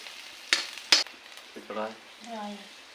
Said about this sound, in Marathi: मस्त फोडणी तडतडलेली असा